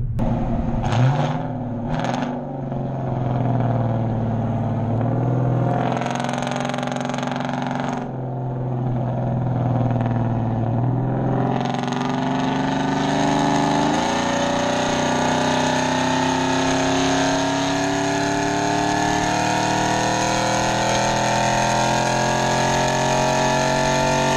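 A big-cam 2014 Chevrolet Silverado 4WD truck engine idles loud and close, a deep lumpy rumble that rises in pitch partway through as the revs climb, then holds a steady drone.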